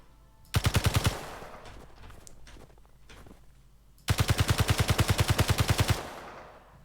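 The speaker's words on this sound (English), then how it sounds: "I appear to be shooting the dirt." Two rapid bursts of automatic gunfire from a gun shooting into dirt in Space Engineers, a short volley followed by a pause, then a longer sustained string of evenly spaced shots, loud and close.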